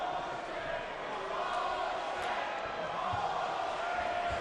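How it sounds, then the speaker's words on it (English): Arena crowd at a Mike Tyson versus Corey Sanders boxing match, a constant roar of murmuring spectators filling the background at moderate loudness, with no distinct cheers standing out. "the crowd is starting to get on them"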